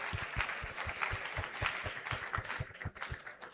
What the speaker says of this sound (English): Clap for him. Give him a clap.